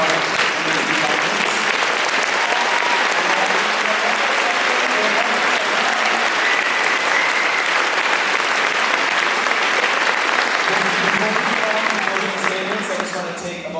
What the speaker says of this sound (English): let's give a round of applause to our amazing candidates